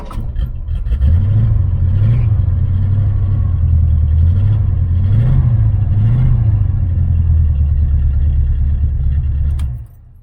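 A 1980 Camaro Z28 engine idles with a deep steady rumble, revving up and down several times in smooth swells before cutting off near the end, loud and close with no voices.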